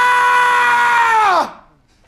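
An actor's loud sustained scream on a film set, a single strained cry held for over a second before breaking off into near silence.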